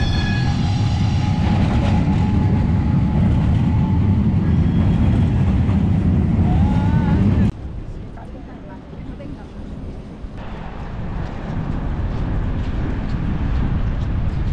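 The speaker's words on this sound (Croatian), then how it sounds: "Evo metro." A metro train passes near the Ponte Luís bridge in Porto on a rainy day, a loud close rumble that cuts off abruptly partway through, after which a softer background of rain and traffic continues.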